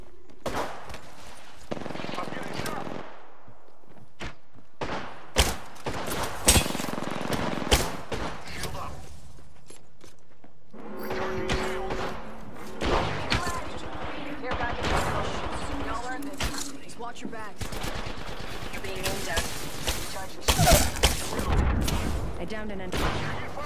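Video game gunfire, sharp shots and rapid bursts echoing in clusters across the scene, interleaved with players talking over voice chat.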